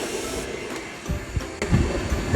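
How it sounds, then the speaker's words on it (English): A blow dryer runs steadily as a stylist directs its airflow over a client's front section after a short-medium layered haircut, a continuous broadband whoosh with small bumps and handling noises rising toward the end. "I'm gonna follow the blow dryer the way that I want her front to go."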